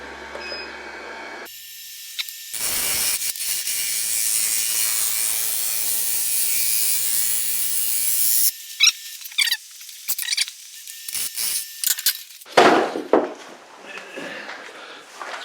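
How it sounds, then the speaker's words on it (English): A wood lathe spun up to high speed makes a final cut, a loud sustained hiss and rough scraping of the tool on wood, then broken bursts of cutting and scraping toward the end, close by. "Now what I am going to do is turn the lathe right up now, because this is one of the final cuts."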